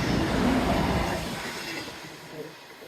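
Train running along a seawall, a rumbling roar of wheels on rails that is loud at first and fades as it passes into the distance.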